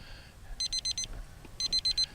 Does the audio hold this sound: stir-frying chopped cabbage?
no